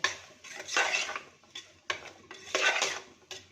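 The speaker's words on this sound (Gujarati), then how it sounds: "હવે આપણે એકદમ સરસ બધા શાકને મિક્સ કરી લઈએ।" Spoon scraping and clinking against a metal pan while mixed vegetables for khichdi are stirred, a few distinct close scrapes in an uneven rhythm, quiet with no talking.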